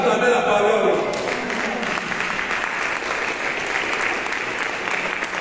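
A congregation claps loudly and steadily in a chapel during a Saturday prayer service for the sick, a dense wash of applause filling the room, with a voice speaking briefly at the start.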